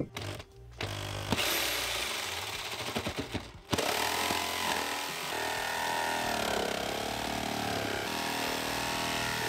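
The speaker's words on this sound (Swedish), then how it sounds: "Någonstans mitt emellan de linjerna ska jag lyckas såga." Harsh power-tool sawing through thick sheet metal on a campervan, loud and continuous, with a few brief stops and restarts early on before a long steady grinding cut.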